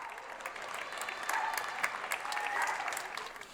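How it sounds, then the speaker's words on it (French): People applaud healthcare workers during the first Covid lockdown in March 2020, a steady, distant wash of clapping from many hands with a few faint cheers and whistles mixed in. "les gens applaudissent le personnel"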